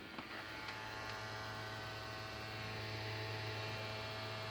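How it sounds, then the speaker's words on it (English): A steady low electronic hum with a constant whirring drone, faint and continuous, from a game console's cooling fan running while a game installs. "that's the fan. It's doing it because it's installing."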